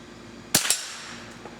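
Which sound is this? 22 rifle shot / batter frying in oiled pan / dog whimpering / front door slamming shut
22 rifle shot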